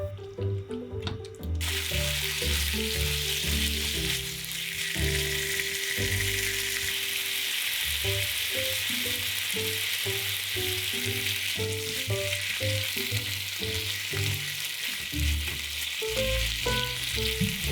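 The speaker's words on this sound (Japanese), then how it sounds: "豚肉を炒めます。" Seasoned pork sizzles steadily in a pan while being stir-fried, a loud continuous hiss broken by repeated scraping and stirring clatter from the utensil.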